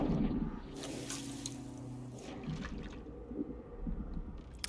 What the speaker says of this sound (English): Let's head in the water right away then.